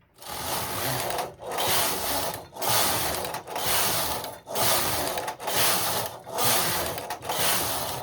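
Rhythmic swishing clatter of a Singer knitting machine carriage being pushed back and forth across plain stockinette rows, about eight even passes with brief pauses at each turn, close and clear with no talk.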